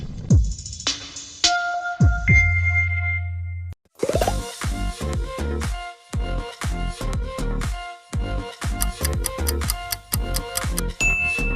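BET+ streaming platform logo sting: a few bright chiming tones with low booming hits for about four seconds, followed by a long run of rhythmic, evenly spaced ringing dings and clangs, loud and without talk.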